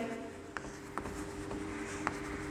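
Chalk or marker writing out a division problem on a board, a few faint separate taps and strokes over a steady background hum, no speech.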